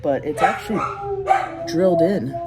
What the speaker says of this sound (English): Sorry about the stupid dogs.